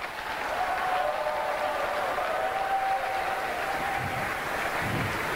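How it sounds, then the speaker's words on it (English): A large audience at a peace tour event in Romania applauds steadily, a dense sustained clapping that fills the hall at a constant loud level, with a faint tonal hum running through it. "please give them another round of applause."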